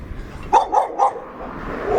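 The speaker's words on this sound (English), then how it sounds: "But it was a dog barking at me." A dog outside on a street barks three quick times at a moderate distance over a steady background hum, with no talk.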